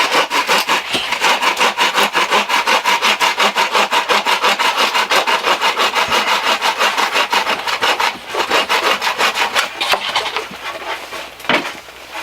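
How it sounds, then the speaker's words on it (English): Pocket chainsaw cutting firewood at a winter camp, a steady rhythmic rasping of chain links pulled back and forth through wood, loud and close, with a brief pause and change of stroke near the end. "It's one of those pocket chainsaws."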